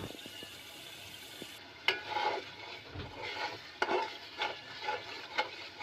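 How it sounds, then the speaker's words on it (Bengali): Spice paste for chicken leg kosha being stirred and fried in oil in a pan, with a spoon scraping and clinking at intervals over a soft sizzle, close and moderate, with no talking. "মশলাটাকে এভাবে নেড়েচেড়ে কষে নিতে হবে যতক্ষণ পর্যন্ত না উপরে হালকা তেল উঠে আসে"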